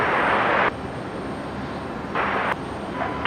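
Broad roaring rumble of an aircraft at Brisbane Airport at night, steady and fairly loud, swelling and dropping in short surges.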